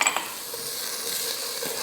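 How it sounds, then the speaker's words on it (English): Chopped garlic with onion sautéing in a pan, a steady soft sizzle with a clink of a utensil stirring at the start, close and moderately quiet. "I saute this just until the garlic becomes fragrant and softens just a little"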